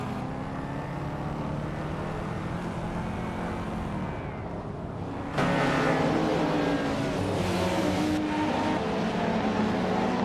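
Race cars, with a 1988 Porsche 944 Turbo on pole, roar as the start gets underway. A continuous, loud engine drone jumps in intensity midway as the pack accelerates, and no voices are heard.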